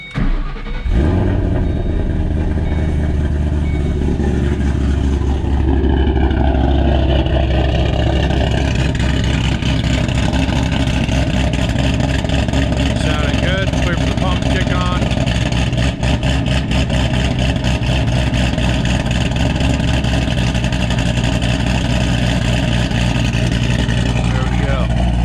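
A 2007-2014 Ford Mustang GT500 engine catching on start-up and settling into a loud, steady idle that rumbles nearby for about twenty-five seconds, with a slight rise in revs midway.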